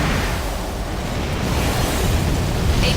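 Ryder Palash, an armored core mech in Armored Core: for Answer, bursts apart in a loud, sustained explosive roar that fills the whole three seconds with heavy rumbling low end and crackling debris, with no talking.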